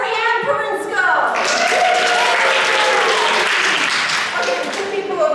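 Conference audience at a humor talk responding with a burst of loud applause and cheering that swells after a second and holds steady, a dense crowd sound with scattered voices mixed in.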